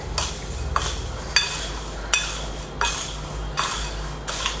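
Spoon stirring a spicy Kerala snack mixture coated in spices, steady scraping strokes roughly every second, close and clear, with faint clinks against the bowl.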